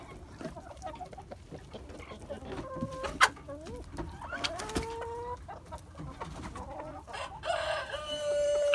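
Fifty chickens cluck and squawk inside a hen house in winter, with a rooster crowing partway through; the busy flock chatter runs steadily throughout at close range.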